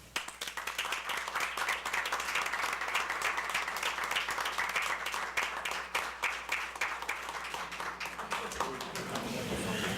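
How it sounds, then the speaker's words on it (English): A city council chamber audience applauds its firefighters with a steady, fairly close round of clapping that runs nearly ten seconds before easing off, with some talk mixed in. "give our firefighters just a big round of applause"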